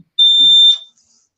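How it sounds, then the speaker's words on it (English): A single high-pitched electronic beep like a smoke alarm chirp, lasting about half a second, loud and clear against silence, preceded by a faint low murmur. "I hear like a beeping in the background."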